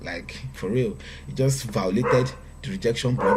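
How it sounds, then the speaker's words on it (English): A dog barks and yelps briefly, fairly close, under continuous excited talk from a man. "Oh my god, this dog."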